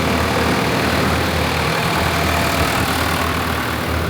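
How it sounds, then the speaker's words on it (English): A tractor-drawn grape picker idles in a vineyard at harvest time, giving a steady, continuous low engine drone with a constant rumble throughout and no voices. "I guess the lull of the tractor,"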